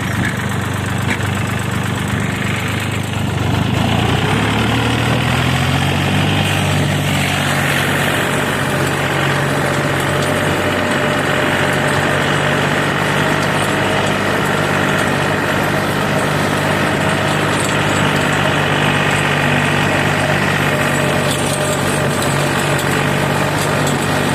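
Small tractor with a DV engine ploughing soil for garlic planting with a new Korund plough in raised first gear, a loud continuous close engine drone that rises in pitch and holds steady throughout.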